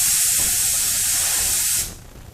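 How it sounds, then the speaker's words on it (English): A can of compressed air sprays in a steady, loud hiss for just under two seconds, then cuts off into quiet room tone. "So this is compressed air, and if I spray some out"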